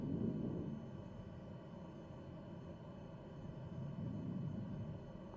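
A turboprop engine hums at flight idle as a steady, moderate rumble with a faint high whine. It swells slightly at the start and again near the end, with no talk.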